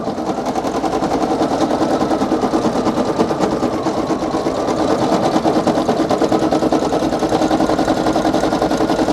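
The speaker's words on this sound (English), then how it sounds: "I'm going to let it just keep stitching out on its own" A Brother PE800 embroidery machine stitches a design onto a hat with a loud, steady, rapid needle chatter over a constant motor hum that runs on without a break.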